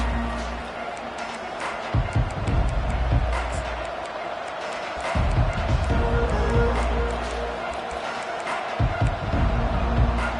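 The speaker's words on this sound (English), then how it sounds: "Listen to the crowd energy here in the early going." A large college football stadium crowd roars in a steady wash of noise, swelling in waves with scattered cheers and shouts, loud and continuous throughout.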